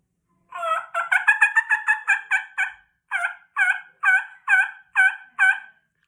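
A hunter's turkey call imitating hen turkey calling, a fast run of sharp yelps that tumbles together, then a short pause and a slower, evenly spaced series of loud, close notes with no talk.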